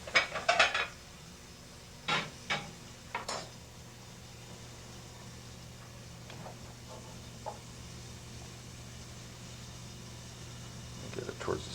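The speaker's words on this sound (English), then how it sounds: "I'll chop that up, I guess." A knife chops scallion on a cutting board in a few sharp knocks near the start and middle, followed by quieter sparse taps and clinks against a low kitchen hum.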